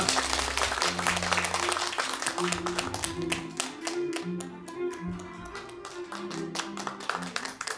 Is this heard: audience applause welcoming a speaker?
yes